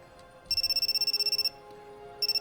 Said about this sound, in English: The phone rang incessantly, informing me of Superintendent Tokida's call.